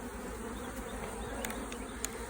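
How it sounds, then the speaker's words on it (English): Honey bees buzz around an opened beehive during a hive split, a steady, dense drone close by, with a few individual bees flying past the listener. "there's quite a few bees up here"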